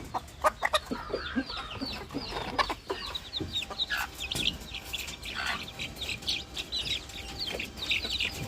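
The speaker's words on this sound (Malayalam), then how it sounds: "ഇത് നാടൻ കോഴിയാണ് കുഞ്ഞുങ്ങളാണ്" Native chicken chicks cluck and peep continuously nearby, a busy mix of short calls with rustling underneath.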